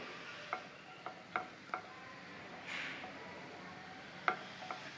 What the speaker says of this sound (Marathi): एक अर्धा मिनिट या लवंगा परतून घेऊया आपण तुपात।